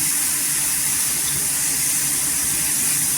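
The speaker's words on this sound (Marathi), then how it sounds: "छान अशी भाजून घ्यायची तव्यावर आणि गॅस स्लो करायचा" Dried fish (sukat) dry-roasting on a hot griddle without oil over low gas, giving a steady, close hiss throughout with no talking.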